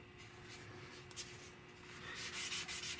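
Sandpaper rubbing back and forth on the end grain of a wooden rifle stock, a close, soft continuous scratching that grows a little louder toward the end.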